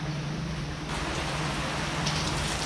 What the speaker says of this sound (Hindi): हाय बारिश